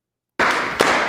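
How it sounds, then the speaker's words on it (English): Audience clapping at a talk, starting abruptly after a moment of silence and continuing as a dense burst of claps, with a couple of louder individual claps standing out near the front. "I'm glad people clap with me"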